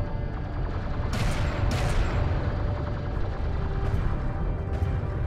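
Gunfire crackles in the real-time strategy game Homeworld: Deserts of Kharak, a dense continuous battle din with a couple of sharp louder bursts of shots over rumbling explosions.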